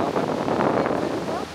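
Strong coastal wind buffets a microphone on a seaside boardwalk, a loud continuous low roar that swells and eases over a second and a half.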